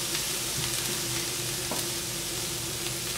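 Chopped onion added to hot oil in a bowl sizzles in a steady, close, dense hiss that continues evenly throughout, with no voices.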